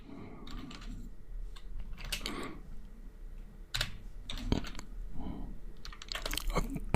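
Code typed on a computer keyboard, as irregular bursts of crisp key clicks and clacks, close and moderately quiet over a steady low hum.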